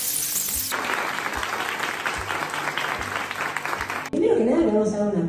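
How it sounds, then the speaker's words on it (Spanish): Audience applause at a book presentation at the Buenos Aires International Book Fair, steady loud clapping from a crowd that cuts off abruptly near the end as a voice begins speaking. "Primero que nada le vamos a dar un aplauso a Lucas."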